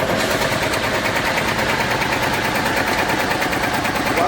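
A vintage post-war tractor engine runs steadily at a heritage tractor parade, a continuous loud chugging rumble with rapid rhythmic pulsing throughout and no talk over it.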